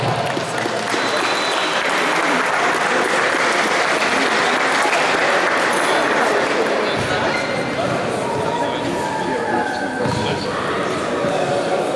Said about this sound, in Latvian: Jūs aplausi.